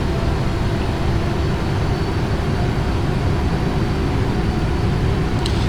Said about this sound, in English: now you see the thrust levers are advancing to full thrust.